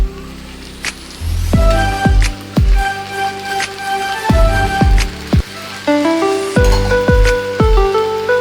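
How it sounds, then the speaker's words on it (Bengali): Drained, soaked mung dal tipped into a hot kadai for Gobindobhog rice bhog khichuri, giving loud repeated sizzling bursts with metallic clinks and stirring scrapes against the pan, close and without talk. "এবার আমি সেই জল ঝরানো মুগের ডালটা দিয়ে দিলাম"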